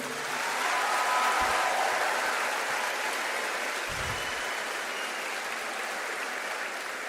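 Audience applause at the Prix Liberté 2024 ceremony, honouring two absent patrons of the prize; a broad, steady wash of clapping across the whole stretch with a couple of low thumps, no talking.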